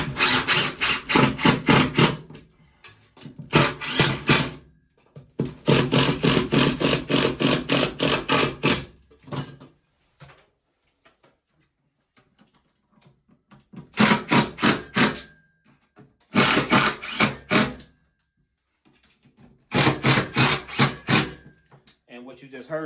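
A cordless drill's clutch slips with rapid ratcheting clatter while long screws are driven during a shower grab bar installation, coming in several bursts of a second or a few seconds each, separated by pauses, with talking nearby.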